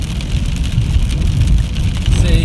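Rain falling steadily outside a building in Manitoba, a continuous broadband hiss with low rumble that stays even throughout, fairly loud and close with no talking.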